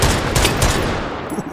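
A burst of rapid, dense gunfire from the M26 in the virtual-reality shooter H3VR, loud and close, with shots blurring together for under two seconds before tapering off.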